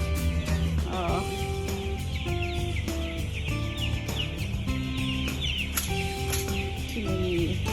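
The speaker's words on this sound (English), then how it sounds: "Too many chickens." Many chickens cluck and call on a chicken farm, overlapping steadily throughout with a busy flock chorus, some birds close and others further off, with faint voices in the background.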